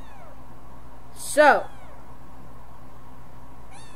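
Kitten meowing in the video game Shelter 2, a single short, bright mew rising and falling, heard clearly over low background game ambience, with a faint start of another cry at the end.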